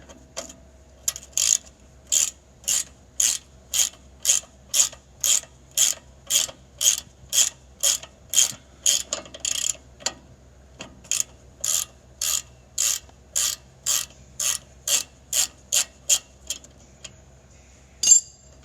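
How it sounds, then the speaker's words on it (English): Ratchet wrench loosening a nut on a 2015 Ford F150 during a leveling kit install, giving a long run of evenly spaced metallic clicks in bursts, close and clear, with a short pause midway and a final louder click. "could put a 10mm box end on there and hold that still while you get that nut off"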